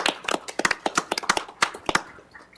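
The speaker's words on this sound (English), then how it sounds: "So let's give a round of applause" A small audience at a city council work session claps in a brief, loose round of applause, the sharp claps close and uneven with no talking over them.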